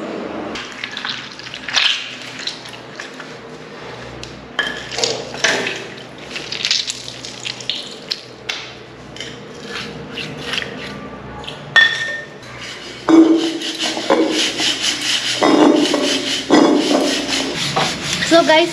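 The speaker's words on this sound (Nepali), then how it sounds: "यहाँ चाहिँ भाँडा धुवाई हुँदैछ" Dishes being washed by hand, including brass utensils, with scrubbing and rubbing broken by sharp clinks and knocks of pots and pans, irregular and close, growing busier toward the end.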